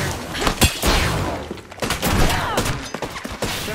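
Dense, overlapping gunfire from weapons in the video game Apex Legends, rapid loud bursts with thuddy impacts running continuously throughout.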